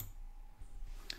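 A computer mouse giving a single soft click near the end, faint and brief, against quiet background hum.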